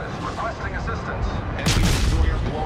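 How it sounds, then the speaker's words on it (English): Rumbling World of Warships game ambience broken by a sudden loud boom of heavy naval gunfire from the destroyer U.S.S. Nicholas, followed by a deep rolling rumble. "Give him some gunfire."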